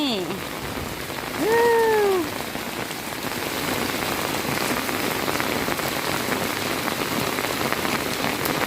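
Steady rain patters on surfaces close by in an even, continuous hiss that runs throughout. A brief rising-falling tonal call rises above it early on.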